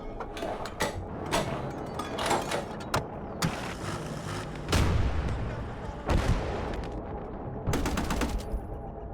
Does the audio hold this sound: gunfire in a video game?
yes